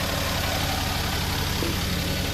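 Maruti Alto 800 petrol engine idling after a throttle body cleaning, a dense steady rumble with faint knocking and its RPM fluctuating, heard up close with no talk.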